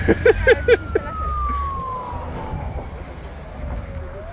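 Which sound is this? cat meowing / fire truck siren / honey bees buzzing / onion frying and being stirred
fire truck siren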